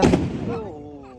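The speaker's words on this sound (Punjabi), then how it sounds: "ਚਲਾਓ ਪਟਾਕੇ ਦੇ" A firecracker bursts during a Guru Nanak Gurpurab celebration: one loud, close bang at the start, then a ringing tail that fades over about a second.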